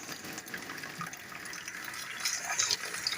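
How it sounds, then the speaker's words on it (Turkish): Water slowly poured over bulgur in a cooking pot, a steady close gushing and trickling stream that grows slightly louder toward the end. "Ben böyle suları yavaş yavaş dökerim ki ne aygazın batmasın ne de üzerimize gelmesin."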